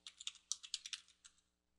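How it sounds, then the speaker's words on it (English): A password is typed on a computer keyboard, a quick run of about a dozen close, light key clicks that fades off toward the end. "I've typed in the password and it's been accepted"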